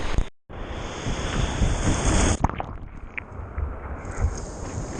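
Ocean surf at a surfing beach washes and rumbles with heavy wind buffeting the microphone. A sharp crash of water comes about halfway, and a lighter, choppier wash follows.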